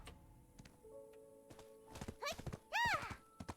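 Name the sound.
horse hooves clip-clopping in a video game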